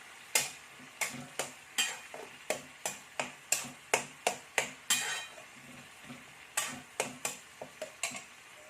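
Ground spice paste stirred with a little water, a spoon striking the bowl in a quick, regular series of close, sharp taps, pausing briefly and then resuming, with no voices.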